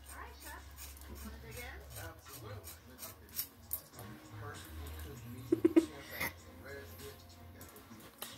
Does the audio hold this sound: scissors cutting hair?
yes